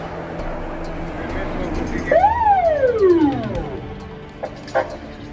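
A special sound signal from a Volkswagen car gives a single rising-then-falling siren sweep lasting about a second and a half over street noise, with a few short sharp sounds afterward.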